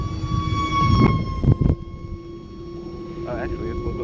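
An E-Flite UMX MiG 15 electric ducted-fan model jet gives off a thin, steady high whine. Rough gusts of wind and a few voices break over it early on, then it carries on alone.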